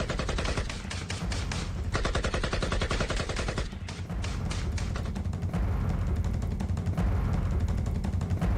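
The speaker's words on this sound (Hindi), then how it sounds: "गोलियों की आवाज भी सुनी जा सकती है" Rapid bursts of automatic gunfire crackle continuously during an army encounter with militants in Pampore, Kashmir, fairly loud and sustained with short pauses between volleys, with no voices.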